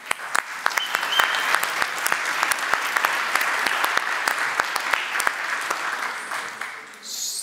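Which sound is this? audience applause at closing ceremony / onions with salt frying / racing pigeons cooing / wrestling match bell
audience applause at closing ceremony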